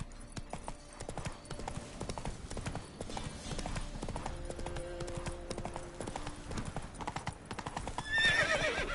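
Roach the horse from The Witcher 3 galloping, with rapid clip-clop hoofbeats throughout and a brief whinny near the end, close and fairly loud among game sounds.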